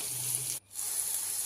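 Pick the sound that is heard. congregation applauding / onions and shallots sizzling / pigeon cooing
onions and shallots sizzling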